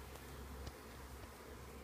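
Honey bees swarming around a hive entrance, giving a steady, faint buzzing hum that carries on without a break, with one brief louder buzz as a bee passes close.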